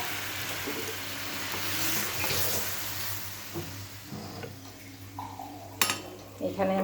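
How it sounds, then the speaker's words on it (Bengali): Dal is poured into a hot cooking pot over a radhuni tempering for a bitter gourd dal. A steady sizzle and hiss swells, and sharp metallic clinks of utensils against the pot come through near the end. "তো আমি এখন ডালটা দিয়ে দেব"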